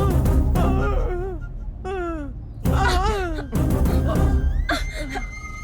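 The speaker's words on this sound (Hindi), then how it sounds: "ऐसे मत मारो" Blows land on a woman during a fight scene in a dubbed Hindi crime film, heavy thumps breaking in among her loud wailing and groaning cries, close and intense across several seconds.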